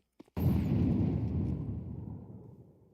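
An incendiary grenade in Counter-Strike 2: a small click, then a sudden loud whooshing burst that settles into a low, roaring, crackling burn and slowly fades over a few seconds.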